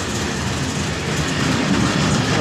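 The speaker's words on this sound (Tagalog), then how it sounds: "Ah, super haba ng train." A long train rolls steadily past at close range, a continuous loud rumble of rail cars with faint clickety-clack from the wheels over the track, with no pauses throughout.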